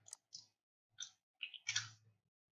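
A handful of short, crisp computer mouse clicks on a quiet desk, spaced irregularly with near silence between them, close and soft.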